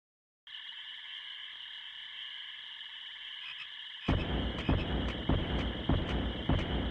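Frog croaking in the Digimon World video game comes as a repeated rhythmic croak over a steady droning game tone, turning into louder, regular thumping croaks partway through.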